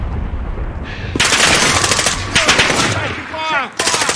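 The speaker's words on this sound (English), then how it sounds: "I shot my entire clip into that pole right there" Loud, sustained automatic gunfire from Call of Duty Warzone, fired into a pole. Dense rapid bursts are broken by brief pauses, and a voice speaks faintly in the background.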